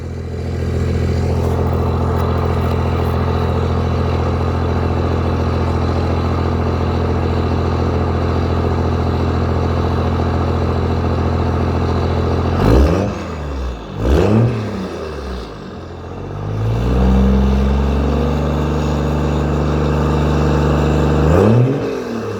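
A Cummins diesel engine fitted with a 4-inch Diamond Eye turbo-back exhaust idles with a steady, deep rumble for a long stretch, then is revved in several sharp bursts that rise and fall before settling back.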